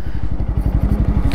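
Bajaj Pulsar F250 motorcycle racing a Yamaha R15M at high speed, a loud, close engine drone with a steady pulsing rhythm that holds throughout.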